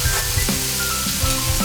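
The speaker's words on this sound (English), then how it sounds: "the audio is going to be like sizzling the whole time" Food sizzles steadily in a hot frying pan, a loud, constant crackle close to the microphone with faint clinks of stirring.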